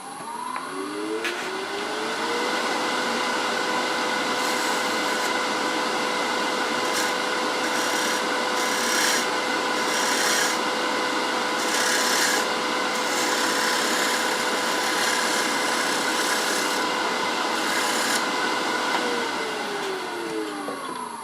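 A wood-turning scraper cuts along the edge of a turned bowl on a lathe, a steady hissing, rasping scrape over a constant motor whine that rises at the start and winds down at the end, with no talking.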